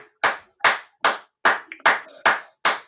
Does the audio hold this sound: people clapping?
yes